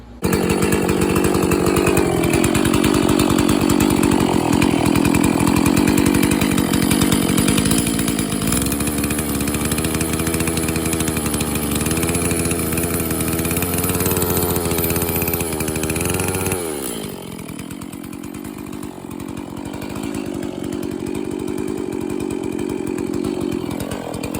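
STIHL MS460 chainsaw running loud and close, revving up and holding high, then dropping into a steady idle, with no talk over it.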